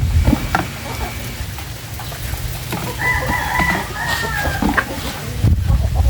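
White Leghorn chickens cluck and crow amid a busy farmyard, with a steady low rumble and patter underneath and a few clear calls standing out midway.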